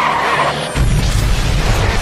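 An explosion blows up a road to stop a convoy: a sudden deep boom erupts partway through, followed by a heavy low rumble and crackling debris that continues to the end.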